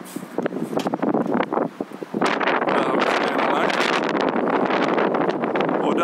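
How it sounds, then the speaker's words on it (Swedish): Strong gusts of wind roar and buffet the microphone outdoors at a DeLorean DMC-12 car gathering, heavy and continuous, with broken voices talking faintly beneath the rumble. "Jag antar att man inte misstår sig på att det blåser något vansinnigt"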